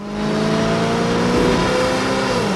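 Car engine roars at high speed through a film car chase, a sustained loud drone with a slight rise in pitch, close and with no voices.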